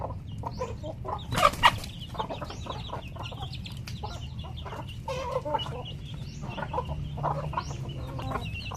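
Paroakan or Parawakan chickens cluck and chatter close by while being fed, a busy run of overlapping short clucks with a sharper squawk early on and a low background rumble, with no talk.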